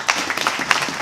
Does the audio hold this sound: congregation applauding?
yes